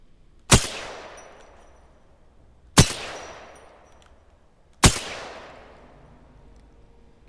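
Three single shots from a submachine gun in Apex Legends ring out at an even spacing of about two seconds, each a sharp loud crack with a trailing echo, and there is no talking.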